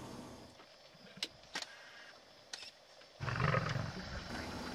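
A big male lion gives a few short, clipped sounds early on, then a deep rumbling roar swells near the end, fairly quiet overall and set against low background noise.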